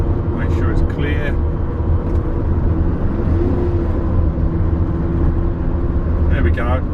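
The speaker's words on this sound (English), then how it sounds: "so we're at 1600 RPM now." A 1983 Mercedes 380SL engine runs steadily at about 1600 RPM, a constant low rumble with a faint whine, with someone talking over it.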